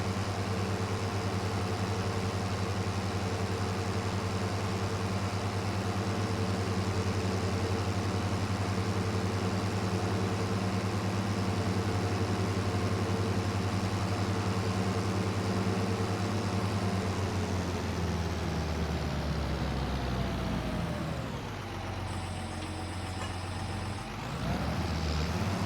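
A tractor engine in Farming Simulator 25 runs with a steady, loud drone and hum throughout, then slows and shifts pitch near the end.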